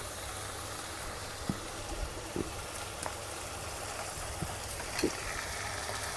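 Ginger garlic paste sizzles in a pan while cooking a spicy baby corn and mushroom masala, a soft, steady frying hiss with a few faint clinks of a utensil.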